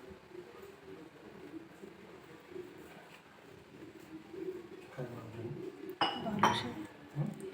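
Ghee being mixed into balushahi dough in a bowl, with low clinks and scraping of utensil against the dish building into louder clattering knocks near the end, close and fairly quiet overall.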